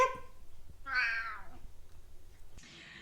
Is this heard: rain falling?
no